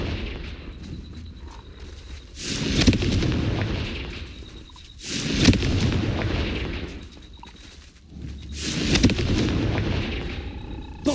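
Confringo blasting spell explosions from Hogwarts Legacy, three loud booming bursts spaced a few seconds apart, each swelling and rumbling before fading, with no talk.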